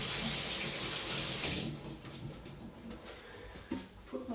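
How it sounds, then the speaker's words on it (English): A kitchen tap runs loudly over gloved hands being washed at the sink, a steady rush of water that then softens into splashing and rubbing, with a couple of small knocks near the end. "I'm just going to wash them off and dry my hands"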